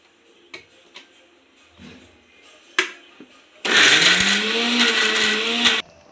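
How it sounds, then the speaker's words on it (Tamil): Kitchen mixer grinder whirring loudly as it grinds masala paste, a harsh high-pitched motor whine that starts abruptly after scattered clicks and clatter, holds steady for about two seconds, then cuts off. "மிக்சியில் அரைக்கிறாங்க இப்போது"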